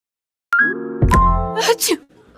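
A single sneeze during a baseball play-by-play broadcast: an abrupt loud burst with a breathy catch, heard close, following a brief tonal sound.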